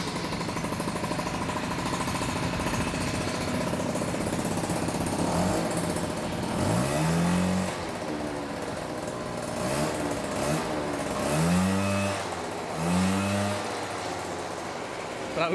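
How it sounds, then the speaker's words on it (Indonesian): A small 50cc Sanex QJ50 motorcycle engine putters steadily, then revs up in several rising bursts, loud and close, with a voice speaking over it at times. "penasaran kan seperti apa suara dari motor mungil 50 cc ini?"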